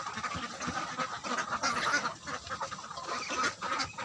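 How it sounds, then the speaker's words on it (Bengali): Ducks feeding near a water-side shelter quack in dense, overlapping nasal bursts close by, a busy rhythmic chorus mixed with dabbling and pecking noises, no talk. "হাঁসে খাবার খাচ্ছে"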